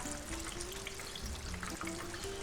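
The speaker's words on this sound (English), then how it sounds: "the frying sounds like a gentle rain" Chicken frying in hot oil for chicken and waffles, a steady close crackle and sizzle like gentle rain that holds throughout over a low hum.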